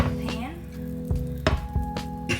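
Butter melts in a pancake pan with a soft, steady sizzle, broken by scraping clinks of a utensil spreading it around, heard close up.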